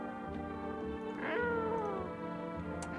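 A single cat meows in a video game, one drawn-out, rising and falling call heard clearly over a soft backdrop of sustained game music.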